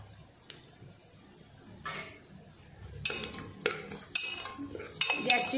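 Ground masala paste is tipped into a pan and stirred with a utensil for a vangi bhat, soft scraping giving way to louder, irregular clinks and scrapes against the metal, with a faint sizzle beneath.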